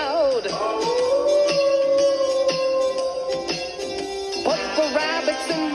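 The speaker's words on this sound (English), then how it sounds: "Put the wolves in the middle and hear them howl." Wolves howl in a children's forest animal dance song, long wavering howls that rise and fall, set over bouncy backing music with a second howl near the end.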